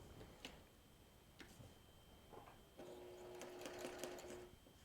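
A sewing machine stitching a quilt block runs in a soft, steady, ticking whir, quiet and close, with faint clicks as the stitching continues.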